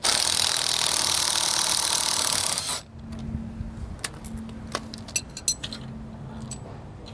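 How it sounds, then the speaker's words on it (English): A 19mm socket and wrench zip a factory bolt out of a vehicle in a loud, continuous whirring burst, followed by quieter metallic clinks and taps as the bolt and tool are handled. "Use a 19mm socket and wrench to zip this out"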